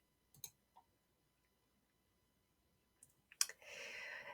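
Several sharp computer mouse clicks, a pair near the start and more later, close and crisp in a quiet room, followed by a soft steady hiss.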